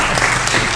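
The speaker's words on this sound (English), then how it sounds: "Let's give a round of applause." A seminar audience on continuing care applauds at the end of a panel session, with a brief, loud, close burst of dense clapping.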